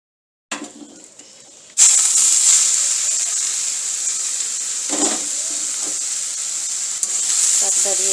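Drumstick greens (sajna shak) frying in a pan with white cumin, a loud, steady sizzle that jumps in volume as the greens go in, with occasional stirring scrapes and no talk.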